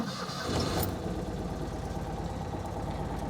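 A Citroen 2CV engine catches after cranking with extra choke, a brief burst of effort giving way to a steady, rhythmic low idle close by.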